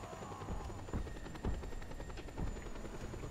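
Helicopter in the video game Just Cause 2, a steady close rotor thrum with rhythmic blade chop throughout, loud and alone without talk.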